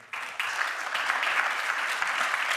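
Dense audience applause during a French-language industry panel, starting abruptly with a single clap, then swelling into a steady, even roar of many hands that holds at full strength to the end.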